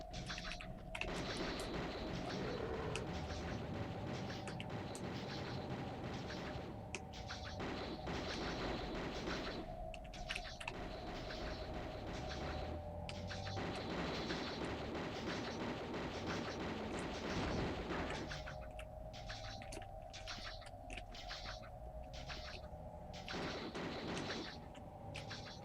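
Automatic pistols fire in Tomb Raider 2 on the Floating Islands level: rapid, dense bursts of gunfire in long runs with brief breaks, loud and close over game ambience.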